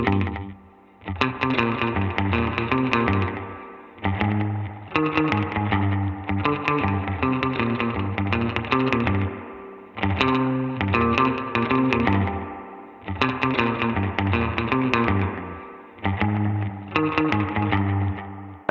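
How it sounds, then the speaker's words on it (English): A distorted electric guitar plays repeated chords through a Universal Audio Galaxy Tape Echo plugin, soaked in echoing tape delay repeats and a splashy spring reverb tail between phrases. "let's listen to some of these options with the spring reverb in as well"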